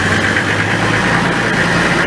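A vehicle engine idles at a steady low rumble, loud and close, with continuous vibration throughout and no voices.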